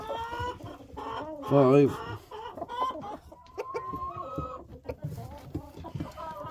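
Hens cluck and squawk close by inside a chicken coop, with one burst of agitated calls, while a person talks and counts over them.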